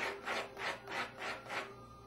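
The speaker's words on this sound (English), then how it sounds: "and then to the sanding pad" Soft rhythmic rasping as a wooden fishing float is rubbed back and forth on a sanding pad, about five even strokes, close and quiet.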